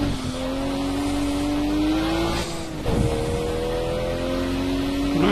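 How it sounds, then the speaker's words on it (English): A BMW racing car engine in a racing video game screams through rising gear pulls, dropping briefly between shifts, loud and continuous with no talking. "Oh, this BMW's loud."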